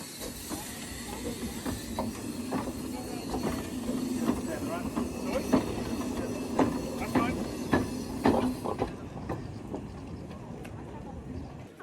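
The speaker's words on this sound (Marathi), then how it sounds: "आता आम्ही चाललोय स्टीमवरच्या ट्रेनमध्ये" A steam train runs on rails with a steady, loud hissing rumble and scattered clicking, heard from on board, with faint voices beneath.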